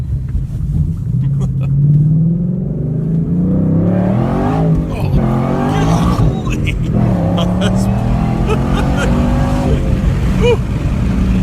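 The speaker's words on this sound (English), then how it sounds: "so the Mustang is now up to 617 horsepower" A 617-horsepower Ford Mustang accelerates hard, its engine rumble climbing steadily in pitch through rising gears, loud and close from inside the car, with people talking over it.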